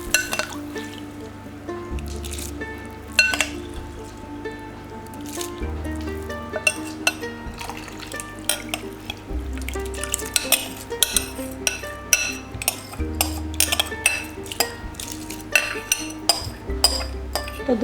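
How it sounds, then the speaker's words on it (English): Soaked rice going into a mutton biryani pot over a lowered flame, with clinks and scrapes of a spoon against the metal pot and soft wet stirring, steady and close throughout, no talking. "I am going to add the soaked rice into it."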